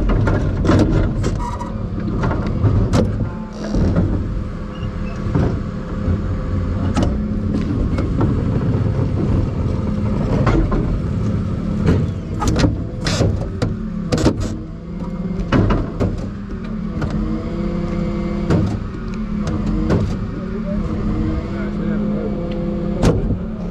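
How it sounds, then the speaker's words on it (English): A refuse collection lorry's hopper compacts rubbish with a loud, sustained mechanical and hydraulic drone, punctuated by clanks and knocks, with voices talking intermittently nearby. "Scoop it into the body of the vehicle, but we're just crushing it down into the hopper."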